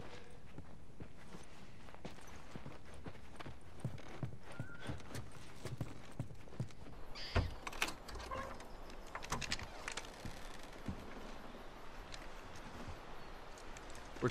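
Horse hooves clip-clopping in The Last of Us video game, a steady walking rhythm of close hoof strikes with a few louder knocks and faint rustling, no voices over it.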